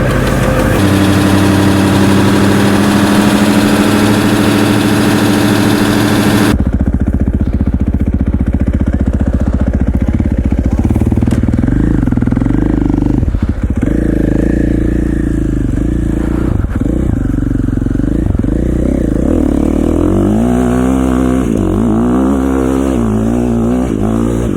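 KTM 450 dirt bike engine running in snowy winter conditions, loud and close, starting with a rough sputtering idle before settling into a steadier uneven idle with small revs and no talking.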